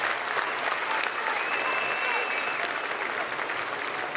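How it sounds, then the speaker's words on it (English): Sustained crowd applause fills the arena at an X-Trial indoor motorcycle trials event in Clermont-Ferrand, steady and fairly loud, with a voice talking over it. "Allez, vous pouvez applaudir bien sûr"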